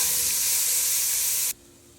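Food sizzles steadily in a hot pan with a bright, even hiss that holds for about a second and a half and then cuts off abruptly, leaving only a faint background.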